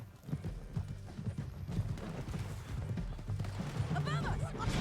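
Rhythmic hoof clip-clops of a horse at a trot in Red Dead Redemption 2, fairly close, mixed with game sound effects and a brief whinny-like cry near the end.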